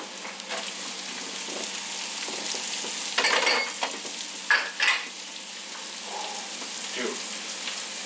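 Onions, carrots and garlic frying together in a pan for kimchi fried rice: a continuous, close crackling sizzle with bursts of stirring and scraping, and a faint voice in the background.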